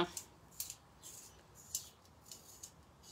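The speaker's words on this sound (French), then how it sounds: "Si je lui coupe la mine et que je l'aiguise" Pencil lead being cut and sharpened while colouring, heard as a string of short, close scraping and snipping strokes spaced irregularly against a quiet background.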